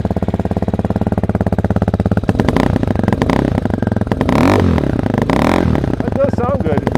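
Fuel-injected Amazon Hawk DLX motorcycle engine revving on an off-road outing at high elevation: a rapid, close idle putter that swells into repeated loud throttle blips and roaring revs, with a voice briefly talking over it.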